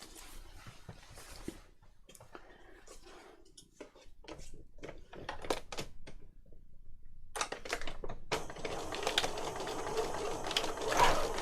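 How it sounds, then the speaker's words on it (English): Sewing machine stitching around paper for a journal: quiet close rattling bursts, intermittent at first, then a steadier run of fast stitching toward the end, no talk. "I'm going to sew around the whole thing, but inside this line that we've just marked."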